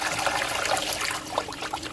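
Water rushing through a battery-powered Gold Rat mini sluice over a reverse-ripple mat, a close, continuous bright splashing trickle with no talk.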